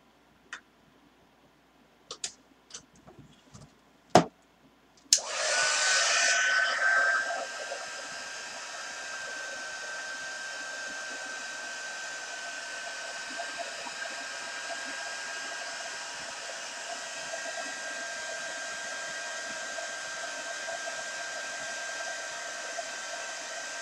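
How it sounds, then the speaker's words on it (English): A few sharp clicks and taps come first, then a hair dryer or heat tool switches on with a strong rush of air. It settles into a steady, close whirring hum while a handmade top hat is being dried. "I'm gonna dry it real quick."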